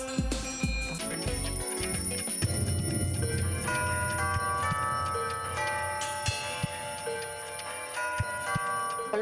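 A collection of antique clocks ticks steadily together in a room, with bright chime-like tones ringing above the quiet regular ticking.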